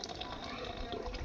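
Water flows steadily from a newly fitted tap at a village primary school during a plumbing skills lesson. The stream splashes continuously at close range, with faint voices in the background.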